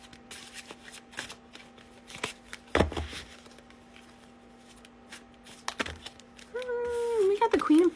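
Tarot cards are shuffled close up in a series of quick riffles and taps before a card is drawn, with a faint tone and muffled sounds near the end.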